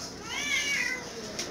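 A house cat gives a single drawn-out meow in a home setting, fairly close but moderately quiet over a low background hum.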